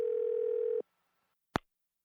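Steady telephone dial tone holds alone for under a second, then cuts off, followed by silence and a single short click-like burst.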